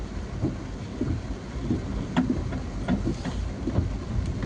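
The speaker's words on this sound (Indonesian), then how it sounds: "sepertinya hujan tambah deras ini teman-teman" Heavy rain pouring at the Losari Beach waterfront promenade in Makassar, a dense steady hiss with scattered sharper drops and splashes close by, no talking.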